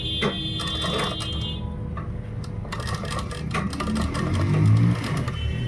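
A sewing machine runs steadily, stitching a kurta made from a dupatta with a turned-over seam, its rapid mechanical whir continuing close up throughout with a few clicks and a brief high tone early on.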